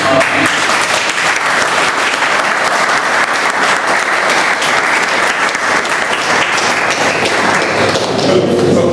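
An audience at a Toastmasters club meeting in Bombay claps in a loud, sustained round of applause that holds steady for several seconds before tapering slightly at the end.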